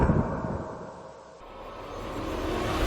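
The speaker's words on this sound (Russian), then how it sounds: "Скорее всего, это звук зума камеры вперемешку с ветром," Strong wind buffeting a camera microphone at an abandoned sanatorium, a steady low rumbling roar that dips briefly in the middle before swelling back up, with no voices.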